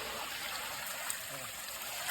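A faint, steady trickle of a swollen village stream in rural Konkan, Maharashtra, soft and continuous in the distance.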